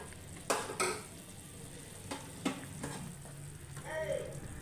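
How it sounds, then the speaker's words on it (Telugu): Tomato pepper rasam comes to a boil in a pot, giving a steady, soft bubbling hiss broken by a few sharp clinks of a utensil against the vessel. "ఈ మాత్రం పొంగితే సరిపోతుంది, ఇంకెక్కువసేపు మరగనివ్వకూడదు."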